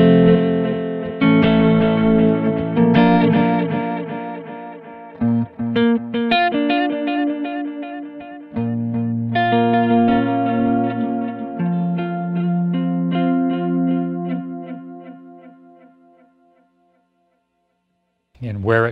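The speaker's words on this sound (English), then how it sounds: "let's go back to 12 o'clock here and just hear the sound of the tape echo" Strymon Volante tape echo pedal set at noon, processing a sequence of clear tonal notes whose repeats blur and trail off into fading echoes, ending with a short burst of sound after near silence.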